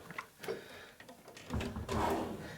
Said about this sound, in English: They are a little hard to open. When you first start, they stop right about here. I think there's a spring in there.